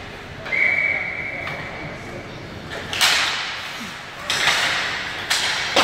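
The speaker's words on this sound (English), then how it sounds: "Whistle." Referee's whistle at a recreational league game, sounding in a short sharp burst early on amid crowd noise, thuds and the commentator's talk in the gym.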